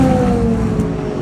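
A Lamborghini Super Trofeo race car, the Lamborghini of Palm Beach entry, revs its engine close by with a steady, loud, droning roar and strong harmonics that fill the whole moment.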